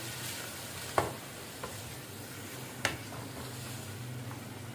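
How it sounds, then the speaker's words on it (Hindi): Yogurt being mixed into mutton aloo gosht in a pot, a soft steady background sizzle with a few distinct spoon scrapes and knocks against the pot. "अब इसको मिक्स करते हैं अच्छी तरीके से"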